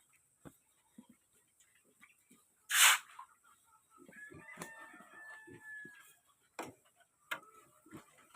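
Chickens waiting to be fed cluck in short scattered bursts at moderate distance, with a louder squawk near the start and a steady ticking running underneath.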